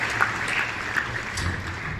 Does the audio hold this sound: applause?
yes